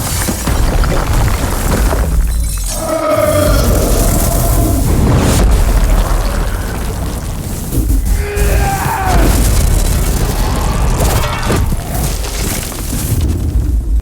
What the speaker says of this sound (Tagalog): winasak ang lugar gamit ang isang malakas na pagsabog ng mahika